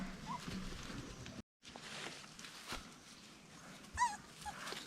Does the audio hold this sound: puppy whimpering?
yes